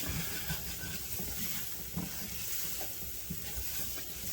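Beef stroganoff stirred in a hot pan gives a steady, soft sizzle with faint scraping strokes of the spoon recurring through it, close and continuous.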